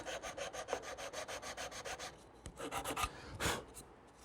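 Wood pieces sanded by hand, a quick rhythmic series of rasping back-and-forth strokes, close and clear, pausing briefly before a few more strokes.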